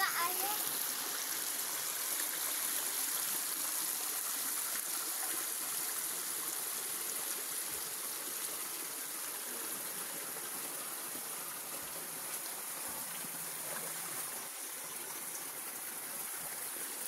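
A stream of water flows out from beneath rocks in wooded surroundings, a soft, unbroken rushing hiss that stays even and fairly quiet from start to finish.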